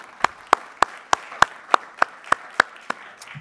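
A single pair of hands claps about ten times in an even, unhurried rhythm, close and distinct, as an audience applauds Neil Thomas Proto at a law school event.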